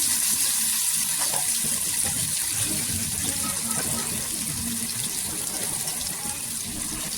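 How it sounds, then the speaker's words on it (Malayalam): Fish fries in a hot pan with curry leaves, giving off a steady, even sizzle that holds at a constant level throughout with no voices over it. "നമ്മുടെ മീനൊക്കെ നല്ല ഫ്രൈ ആയി വരട്ടെ നമുക്ക് വെയിറ്റ് ചെയ്യാം"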